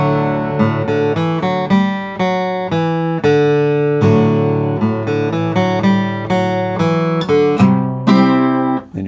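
A clean guitar picks out a melodic line of single notes, each plucked note decaying before the next in a steady, flowing phrase.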